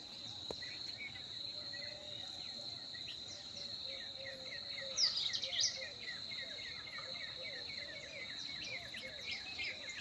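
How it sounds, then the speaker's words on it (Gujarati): Early morning on a farm: a steady, high insect drone fills the background while scattered bird chirps and calls come and go, with one brighter burst of calls near the middle, with no speech. "દેખાતા નથી પક્ષી, પણ અવાજ આવે છે।"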